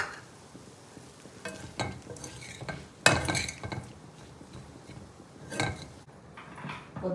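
A spoon stirring a vegetable curry mixed with flaxseed powder in a pan, irregular clacks and scrapes against the metal with pauses between them, and no strong sizzle beneath.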